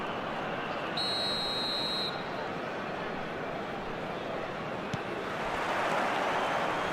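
A referee's whistle in the eFootball video game sounds one sustained, piercing blast of about a second over the loud, steady roar of a packed stadium crowd.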